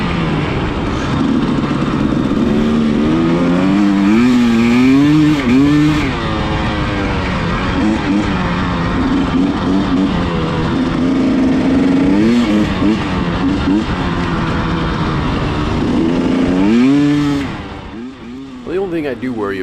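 A motorbike is ridden on dirt trails during the Chilli Run 2025, its engine loud and close, the pitch rising and falling with each throttle change before easing off near the end.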